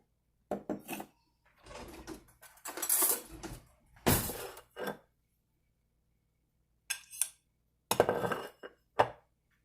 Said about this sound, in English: Gonna put a little butter in the pan.